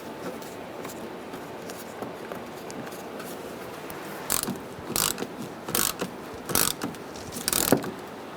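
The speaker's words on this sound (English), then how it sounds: "Now we're going to bolt it down with bolts on either side" A ratchet tightens the bolts holding down the plastic pieces around the AC condenser on a 2010-2013 Kia Soul 2.0L L4. After a quiet stretch come several short, close clicking bursts, each a second or less, spaced at irregular intervals.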